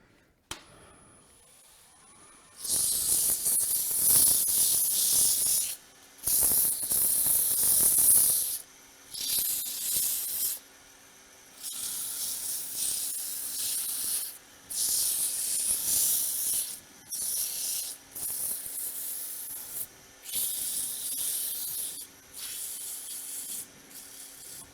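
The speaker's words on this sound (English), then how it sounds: "we're ready to sand. So take the tool rest out of the way for just a bit. Grab some sandpaper." Sandpaper rubbing against a turned piece spinning on a wood lathe, a loud hissing friction sound in repeated bursts of a few seconds each, broken by short pauses, with the lathe's steady hum underneath.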